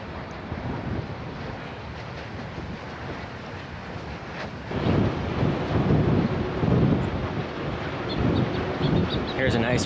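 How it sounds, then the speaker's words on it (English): Strong wind roars steadily across the microphone on the Pacific Crest Trail, growing louder and gustier about halfway through, with no voices. "But it's crazy windy again today."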